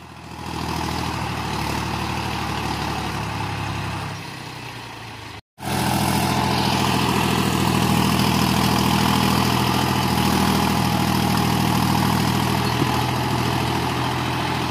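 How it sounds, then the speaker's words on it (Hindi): A John Deere 5310 tractor pulling a 2 MB plough deep through wet soil, with a loud, steady diesel engine drone that briefly cuts out, then resumes stronger and keeps going. "देखो काफी गहराई लेकर चल रहा ट्रैक्टर।"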